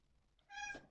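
A cat meows once, close and fairly loud, harmonic and rising, in a kitchen with a low room hum beforehand.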